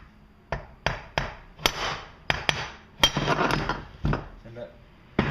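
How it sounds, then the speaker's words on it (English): A brass hammer taps the end of a Poulan Wild Thing chainsaw crankshaft to free the flywheel, giving a dozen sharp, close metallic knocks in uneven rhythm. "on the opposite side of the crankshaft where the clutch is, you can just tap it"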